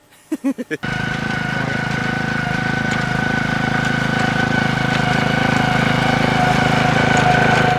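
A gas-powered lawn aerator engine on a residential lawn gives a few quick pulls, then runs loud and steady with a constant droning hum close by for the rest of the time.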